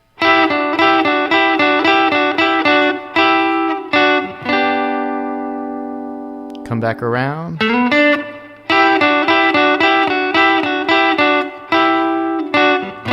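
Electric guitar playing a riff from a song in loud, repeated choppy phrases, broken by a held note and a sliding bend, with a voice briefly speaking over it.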